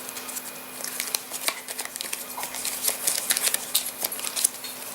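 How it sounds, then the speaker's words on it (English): Castle Ravenloft board game cards being shuffled by hand on a table, close crisp riffling and snapping bursts in an irregular rhythm. "I'm going to shuffle these"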